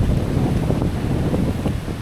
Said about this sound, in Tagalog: Pero napakalakas ng hangin.